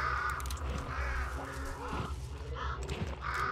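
Crows caw repeatedly in the Hunt: Showdown game world, harsh overlapping calls close by over a low ambient rumble.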